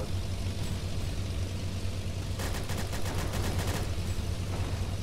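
Shotgun fire in a Roblox World War I airship battle game: a rapid cluster of about a dozen sharp shots midway through, over a steady droning engine hum, with no talking.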